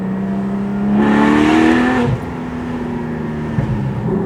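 A Porsche 718 Boxster Spyder flat-four with a Fabspeed lightweight competition cat-back exhaust revs up hard with a raspy, loud exhaust note for about a second, then settles back to a steady idle rumble.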